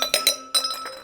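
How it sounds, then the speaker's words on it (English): A wine glass topples and clinks against a hard surface without shattering, giving a few bright, ringing glassy knocks in quick succession, close and fairly loud. "wow, my glass fell and it didn't break"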